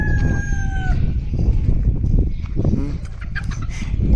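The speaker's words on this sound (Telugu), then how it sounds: "ఇక్కడ చూసారా రకరకాల కోళ్ళు ఉన్నాయి" Assorted chickens at a farm in Hawiyah, Taif: a rooster crows loudly near the start, followed by clucking and scattered fowl calls close by, with a faint murmur of voices.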